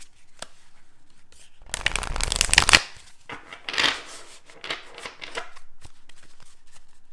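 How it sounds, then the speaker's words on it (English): Oracle cards being shuffled nearby in a burst of riffling, with softer handling and tapping sounds before and after; no talking. "I like shuffling them."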